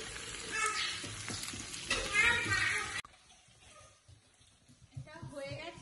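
Chicken fries in oil alongside bell peppers, onion, cabbage and carrot, giving a dense sizzle for about three seconds before dropping to a quieter crackle under faint background voices.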